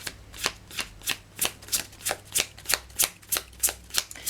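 Tarot cards are shuffled close up in a brisk, regular rhythm, each riffle giving a sharp papery burst, about a dozen in quick succession.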